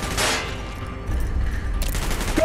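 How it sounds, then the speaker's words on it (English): A burst of rapid gunfire in the video game Call of Duty: Black Ops, a sharp crack followed by a dense, continuous rattle of shots in battle. "Gunfire's drawing attention."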